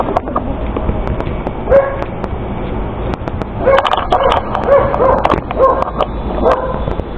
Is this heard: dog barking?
yes